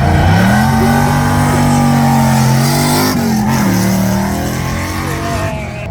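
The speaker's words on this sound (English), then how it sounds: "when he blips the throttle, 9 litre" A Morris Minor fitted with a 9-litre engine at a hill climb runs at a loud, steady idle, its tone rising and falling as the throttle is blipped, with no voices over it.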